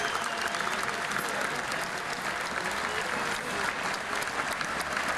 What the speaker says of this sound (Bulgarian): премине през шпалир под аплодисментите на феновете на ЦСКА